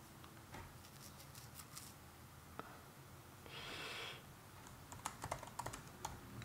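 Quiet clicking of a computer keyboard as text is typed at a desk, light irregular taps that come in short bursts, with a soft brushing rustle midway.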